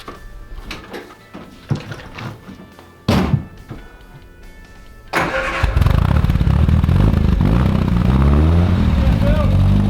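A Triumph Spitfire's engine is cranked after a few clunks and knocks, then catches at around five seconds and settles into a loud, steady idle close by.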